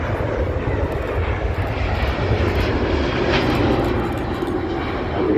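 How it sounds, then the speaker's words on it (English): A Singapore Airlines Airbus A350-900 departs Manchester Airport, its jet engines giving a loud, steady, broadband roar that holds evenly throughout, with no voices. "departing the Airbus A350-900."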